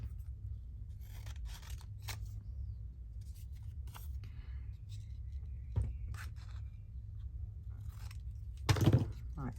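Scissors cut through a sticky, glue-backed paper tab in a few quiet, close snips and scraping strokes, ending in one louder cut, with no talk.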